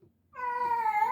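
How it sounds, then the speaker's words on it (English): A house cat gives a single clear, drawn-out meow, close and fairly loud, with no one speaking. "Listen to the cats; they want to come on here."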